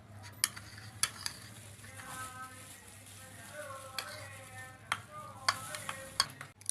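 A spoon stirs boiled potatoes mixed with red and green food colouring for sweet potato zarda, giving scattered sharp clinks and scraping against the vessel over a soft, steady background hum.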